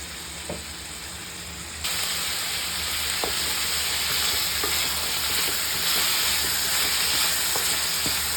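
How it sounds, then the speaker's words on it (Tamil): Carrots and potatoes sautéing for poriyal hiss and sizzle steadily in the pan, getting louder after a couple of seconds, with light scraping taps of a spoon now and then and no talk. "இது கொஞ்சம் நல்லா சாட் பண்ணிக்கலாம்."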